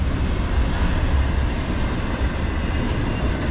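A Norfolk Southern 29G freight train passes westbound on the Lehigh Valley line, a loud continuous rumble of rolling cars with heavy low-end roar and faint wheel clatter.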